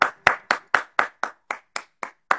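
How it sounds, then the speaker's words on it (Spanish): Ten slow, evenly spaced hand claps ring out one by one with clear gaps between them, fairly close and distinct, with no talking in between. "Aplausos, mirá, están aplaudiendo."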